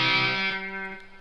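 Distorted electric guitar played through a smart effects unit, a sustained harmonically rich chord ringing out loud and alone, then fading over about a second.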